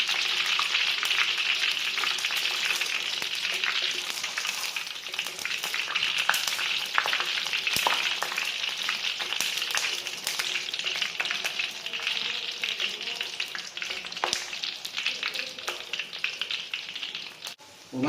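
Peanuts deep-frying in hot oil for Liuzhou luosifen toppings, a constant close sizzle and crackle with scattered sharper pops and the occasional stir, holding steady throughout.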